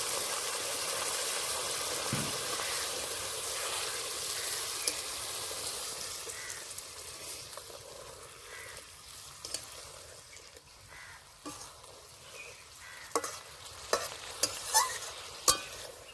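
A pan of prawn, potato and eggplant curry sizzles and hisses loudly after water is added. Steady frying noise fades somewhat, with scattered stirring clicks and scrapes growing sharper toward the end.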